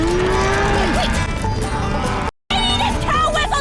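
Cows in a video game moo loudly and repeatedly, with horse whinnies and clip-clopping hooves mixed in, all in a busy, continuous game soundtrack.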